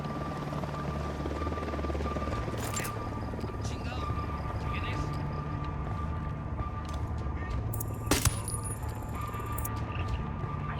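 Helicopter rotor drone in the video game Ghost Recon Wildlands, a steady low hum running throughout, with brief game effects and faint sounds over it.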